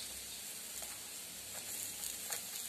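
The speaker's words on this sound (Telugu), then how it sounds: "చూడండి మంచిగా ఫ్రై అవుతున్నాయి" Pieces of tiffin batter frying in a pan of oil, giving a steady, close crackling sizzle with soft pops and no voices.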